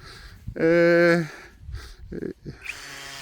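A cordless drill-driver whines briefly at a steady pitch, boring a hole during field training on nitrogen soil sampling, followed by short knocks and handling noises while people talk nearby.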